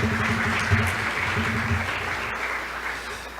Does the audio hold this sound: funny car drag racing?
no